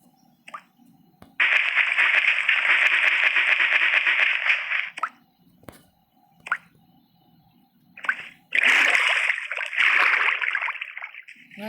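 Water splashes in the Minecraft video game as two long, bright bursts of splashing, separated by short drips and plops, loud and close with no talking.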